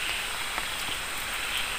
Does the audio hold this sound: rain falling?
yes